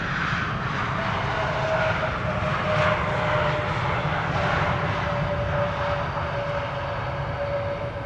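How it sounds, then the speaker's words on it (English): Airbus A340-600 airliner on Suriname flight 994 from Paramaribo arriving at the end of an eight-hour trip, a steady broadband engine roar holding at constant loudness throughout, with a faint tonal whine running through it. "Suriname flight 994 arriving from Paramaribo, A340-600"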